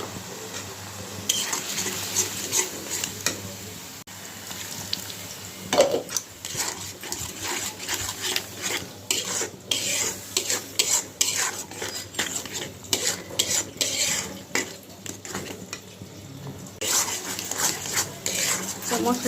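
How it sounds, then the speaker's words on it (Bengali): Ground turmeric, chili, cumin and coriander powders frying in a pan for a Bengali lentil curry, with steady sizzling and repeated clinks of a spoon stirring against the metal pan, and a voice heard over it at times. "মশলাটা আমি একটু ভেজে নিলাম"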